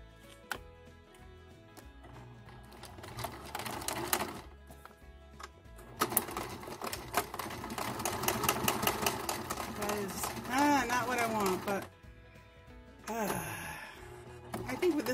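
Sewing machine stitching vinyl for a small sketchbook cover, running in bursts of rapid mechanical stitching with pauses between, close and moderately loud, while a person talks and sighs over it.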